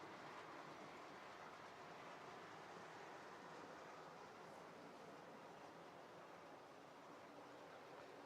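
Model train carriages rolling past on a layout, a steady broad rumbling hiss with faint rail clatter holding at an even level throughout, with no talking.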